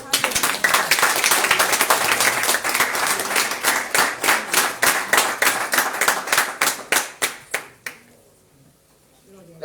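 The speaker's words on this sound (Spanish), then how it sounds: "¿Le damos un aplauso al Señor?" A church congregation applauds the Lord in steady, loud rhythmic clapping that swells and then thins to scattered final claps before falling quiet.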